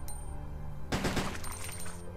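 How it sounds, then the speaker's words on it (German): Automatic weapon fire in Resident Evil Code Veronica X: after a quiet start, a sudden loud burst of rapid gunfire begins and keeps going for over a second over game background sound. "die hat diese geile automatische Waffe"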